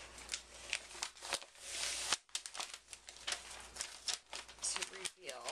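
A sticky covering is peeled back close up, giving crackling, tearing rips in uneven bursts with brief pauses between them.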